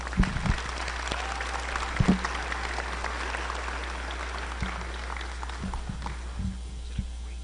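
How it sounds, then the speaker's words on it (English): Audience at a high school academic awards ceremony applauding students, a steady, fairly faint patter of clapping in a large room with a few louder claps near the start. "Let's give these students a round of applause"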